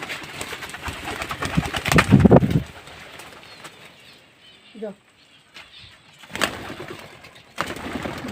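Pigeons burst into flight with loud flapping wings, then a soft cooing call, and another flurry of wingbeats later; talking is heard alongside.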